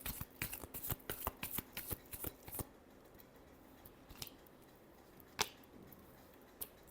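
Tarot cards are shuffled by hand in a quick run of crisp riffling flicks, followed by a few scattered soft card snaps, close and quiet.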